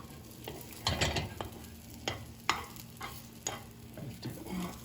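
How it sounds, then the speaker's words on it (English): An egg cooking in an oil-coated pan, a steady low sizzle broken by several sharp scraping and lifting knocks as a utensil works it, with no talk. "Let the egg cook."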